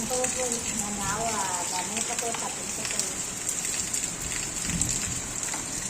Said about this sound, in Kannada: ಮಳೆ ಬೇಕು ಬೇಕು ಅಂತ ಇದ್ರೆ ತಗೊಳ್ಳಿ ಇವಾಗ